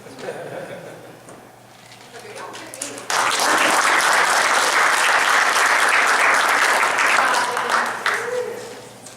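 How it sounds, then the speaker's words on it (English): An audience at a public work session bursts into loud, sustained applause, the clapping starting suddenly after a few seconds of quieter room sound and continuing strongly before gradually thinning toward the end. "Let's give them a another round of applause."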